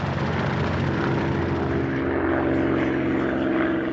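Propeller aircraft engines drone steadily and loudly throughout, a sustained wartime-era airplane roar with no voices, evoking warplanes crossing the Atlantic.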